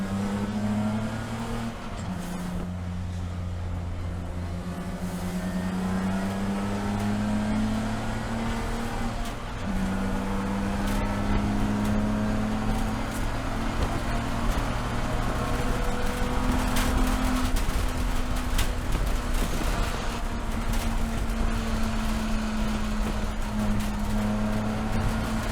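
Racing cars in an SCCA Super Tour race at VIR, BMW Spec E46 among them, pass through the S's with loud sustained engine drones rising and falling as they shift, several cars overlapping.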